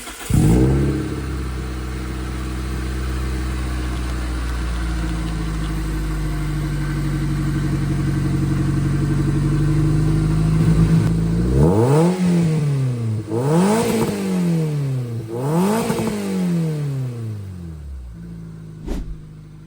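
Car engine at its first start after a rebuild, idling steadily with a low rumble before being revved in several sharp rising bursts, loud and close, then settling back down.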